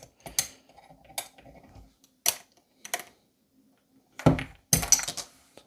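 Plastic keycaps being pried off a mechanical keyboard with a key remover tool: a handful of sharp clicks and clacks spaced irregularly, with a louder cluster of snaps near the end, close and otherwise quiet.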